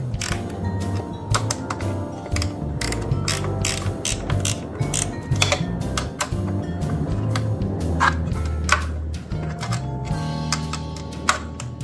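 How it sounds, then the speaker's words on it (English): A wrench ratcheting as it tightens a bolt, a dense mechanical clicking that runs continuously and loudly up close over a low rumble. "This one has plenty of room for a wrench."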